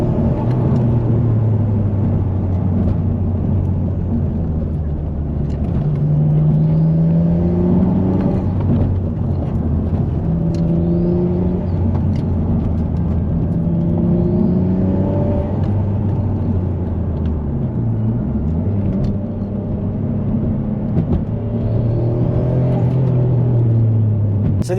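A restored 1999 Mitsubishi GTO drives along with a steady engine drone and road rumble inside the cabin. The engine note rises and falls gently as the throttle changes, loud and continuous, with no talk.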